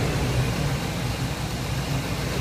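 A 2001 Ford F250 Super Duty with the 5.4-liter Triton V8 idles at a wrecking yard, a steady, even mid-to-low engine drone throughout with no talk.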